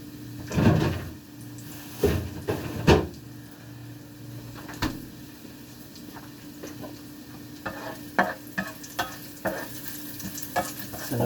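Sliced onions fry in a pan for spicy beef offal adobo, a soft steady sizzle broken by several clattering stirs and scrapes of a utensil against the pan, with no talking.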